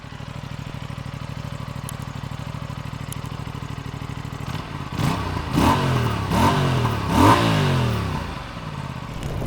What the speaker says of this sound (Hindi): एंड अब एक बार एग्जॉस्ट की आवाज़ भी सुना दो गाड़ी की।